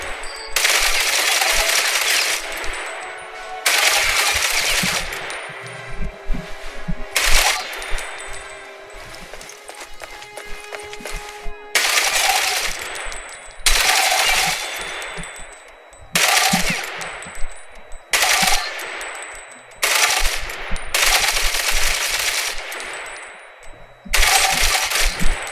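Bursts of automatic gunfire with heavy recoil from a weapon in the online shooter game Ghost Recon Online, loud close rapid-fire volleys of one to three seconds separated by short pauses, with clinking shell-like sounds between.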